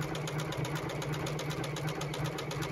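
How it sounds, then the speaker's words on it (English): JUKI sewing machine running steadily while top stitching a tote bag, a loud continuous mechanical hum with a fast regular needle rhythm throughout, close up and without speech. "And I'm just going to finish up that top stitching"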